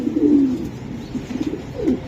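A black racer pigeon coos nearby: a drawn-out low coo, then a few softer short coos and another rising call, over a quiet background.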